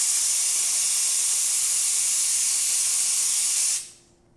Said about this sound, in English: Let me just test the steamer first.